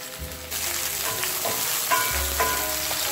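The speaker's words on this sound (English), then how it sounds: "So this is how you infuse your oil with the garlic and the hot pepper" Garlic and hot pepper fry in oil over medium heat with a bright, continuous sizzle that swells slightly midway, with faint crackles and no talking.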